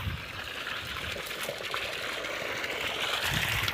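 Irrigation water runs along a furrow in a sugarcane field, a soft continuous trickling and gurgling flow, fairly quiet and steady with no voices.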